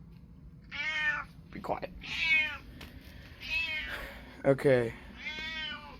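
A house cat meows repeatedly and loudly up close, about five distinct meows spread evenly, while a person speaks briefly between them.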